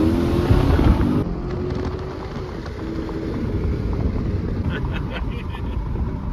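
V8 SUVs accelerate hard in a street drag race, loud engine roar buffeted by heavy wind noise that fades into a lower, steadier rumble as they pull away, with people talking close by.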